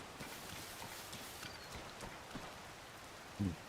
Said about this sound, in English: it's raining like fuck here, so I guess we'll just swim for this part